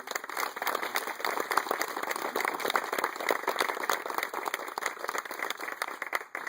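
A crowd applauds steadily, many hands clapping in a dense, even patter that carries on throughout.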